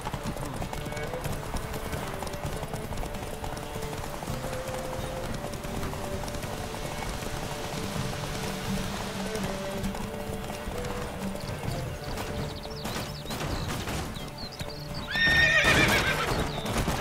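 Horse hooves clip-clop at a steady gallop through The Witcher 3 video game, with a sharp neigh rising near the end over continuous in-game background sound.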